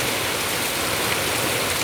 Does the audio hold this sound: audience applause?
no